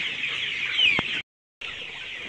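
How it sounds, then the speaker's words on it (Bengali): Color bug chickens on a poultry farm housing about 2,200 birds make a dense, continuous chorus of high clucking and chirping, steady and fairly close, cut by a brief silent gap before resuming. "এই মুরগিগুলো হচ্ছে, এটিকে কালার বাগ বলে পরিচিত এটি।"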